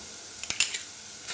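Tomato paste going into a hot pot with a faint sizzle and a few soft stirring scrapes, brief and alone.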